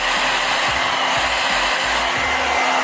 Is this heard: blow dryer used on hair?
yes